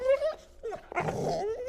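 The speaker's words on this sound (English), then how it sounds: "He starts whining a lot the moment I put him in there" A puppy shut in a laundry room whines and whimpers in a short, close run of high, wavering cries with a brief rough growl-like grumble in the middle.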